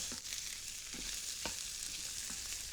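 Quiet, steady sizzle of diced carrot and onion cooking in a pan over lowered heat for chicken pot pie, with occasional soft stirring scrapes and pops.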